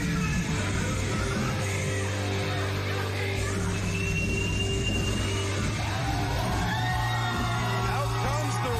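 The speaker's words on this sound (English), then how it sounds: "Listen to that crowd reaction" A live wrestling crowd at a championship match yells, whoops and cheers in a dense continuous roar, with a commentator's voice talking over the noise.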